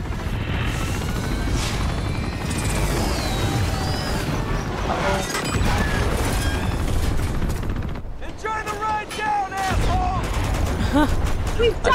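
Rapid gunfire aimed at incoming missiles in the video game Uncharted 2, bursts of shots with crashes and mechanical clatter under a constant droning roar, with game chatter and music-like tones drifting through.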